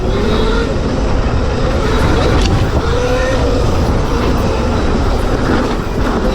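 A Razor MX electric dirt bike runs along a trail with a fitted Kelly KBD 7212 NX controller, giving a constant loud rumble of motor whine, rattling and wind. The noise stays steady throughout.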